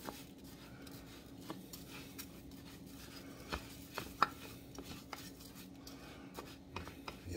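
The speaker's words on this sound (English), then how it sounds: "we're gonna mix it in, getting all of the rice kernels coated with this onion, butter, and oil mixture" Rice stirred in a pan with onion, butter and oil for pilaf, giving faint scraping and light clicking taps of a utensil against the pan over a low steady hum, with a few sharper knocks.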